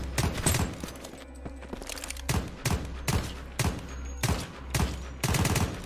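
Bursts of AKM rifle fire in the zombie survival shooter Deathly Stillness, short rapid volleys repeated about six times with brief gaps, loud and close with low thumping recoil.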